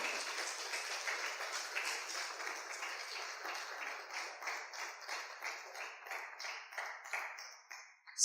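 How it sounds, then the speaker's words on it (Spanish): Congregation at a Catholic preaching event claps for the Lord, a faint, fairly rhythmic run of handclaps that carries on steadily and thins toward the end. "Dele un aplauso al Señor."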